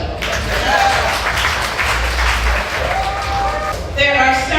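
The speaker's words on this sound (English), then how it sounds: "A round of applause for JAHJAH." An audience at the JAHJAH Foundation's Summerfest fundraiser in Jamaica breaks into sustained applause, clapping filling the room while voices carry over it.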